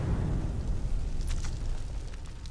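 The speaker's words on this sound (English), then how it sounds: "Get ready for a big explosion!" A large explosion in Skyrim, with a heavy sustained low rumble and roar filling the whole stretch, loud and close, with some crackling debris higher up.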